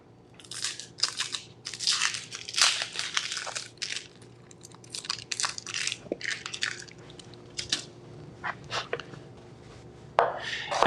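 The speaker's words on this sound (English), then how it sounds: "we're just going to chop this up" A knife chops half an onion into fair-sized chunks, giving a run of crisp, close crunching strokes in irregular bursts with brief pauses.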